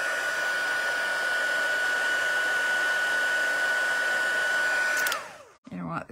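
A heat tool used for card making blows steadily at close range, a loud continuous whine with a fixed tone. It winds down sharply near the end, followed by a few small handling sounds.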